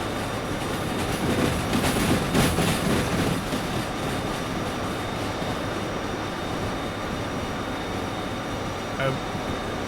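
A runaway train rolls along the track in the railway game Derail Valley, a steady rumbling roll with faint clickety-clack, loudest near the start then holding even to the end.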